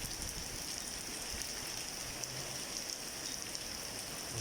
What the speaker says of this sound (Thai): ฝนแรกของเดือนเมษาวันที่แปดนี่